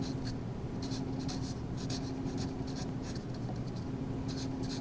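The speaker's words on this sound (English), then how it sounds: "let me write that in ink here" A pen writes in ink on paper, giving soft, close scratching strokes in short repeated bursts over a low steady hum, with no talking.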